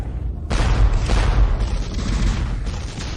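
A powerful cannon firing in a game battle: a sudden loud boom at half a second, then sustained rumbling blasts and a dense barrage that continues to the end.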